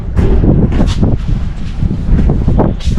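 Cold mountain wind on the Phu Thap Boek heights, buffeting a microphone hard and roaring loudly and continuously in gusty bursts throughout.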